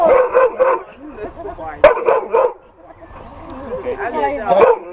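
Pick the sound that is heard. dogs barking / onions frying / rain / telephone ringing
dogs barking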